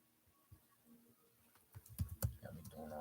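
Soft keyboard typing, sparse at first, then quickening into a dense run of clicking keystrokes in a quiet room.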